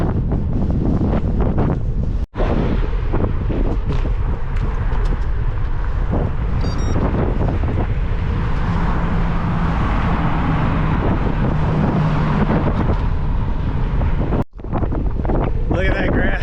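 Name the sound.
strong wind blowing on microphone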